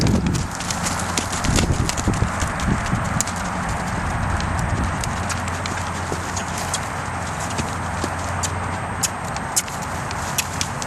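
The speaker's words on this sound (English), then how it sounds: "That's the first time we've rolled right into a canter." Horse hooves striking ground in a quick, rhythmic canter during a ride, steady repeated beats heard up close over a broad background noise, with no talking.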